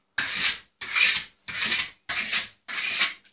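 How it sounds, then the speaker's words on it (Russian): Marble-effect Venetian plaster on a wall is polished with five even, rhythmic rubbing strokes, each a close, breathy swish followed by a short pause, with no speech. "а сейчас приступаем к полировке для придания блеска самой венецианской штукатурке"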